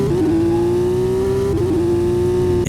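A Porsche GT3 RS engine holds a loud, high, sustained rev with a slight dip and recovery midway, close and steady throughout.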